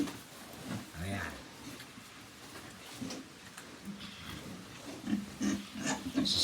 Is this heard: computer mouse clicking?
no